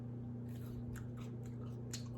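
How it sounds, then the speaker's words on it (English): Crunchy keto fries, cooled and dipped in sugar-free ketchup, bitten and chewed close to the mic in a string of crisp, crackling crunches. "I want you to hear the crunch."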